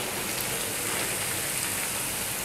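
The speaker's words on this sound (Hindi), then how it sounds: "बोटियों को पलटते, तेज़ फ्लेम रखिएगा, ठीक है? इसको सिर्फ फ्राई करना है, लाल करना है इसको, क्रिस्पी क्रिस्पी सा।" Mutton pieces fry on a high flame with a loud, dense, even sizzle close up, a continuous crackling hiss with no voices.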